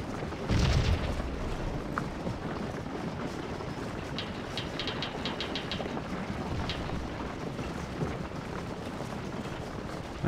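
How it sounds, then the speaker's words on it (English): Cannon fire from Civil War artillery in the Gettysburg battle game Scourge of War, a deep boom near the start followed by distant crackling shots over a steady rumbling battlefield background. "Both guns are firing now."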